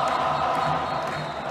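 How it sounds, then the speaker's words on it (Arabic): Wydad football fans chant together in the stadium stands during a title celebration, a dense, steady crowd roar of many voices singing in unison, heard from a distance. "الجماهير يعني تهتف بصوت واحد"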